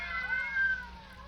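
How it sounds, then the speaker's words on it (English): Several cats meowing in an old-time radio detective drama, a sustained wavering yowl with overlapping cries heard clearly up close. "some fiend, knowing her deadly fear of cats, has locked her in here with half a dozen of them"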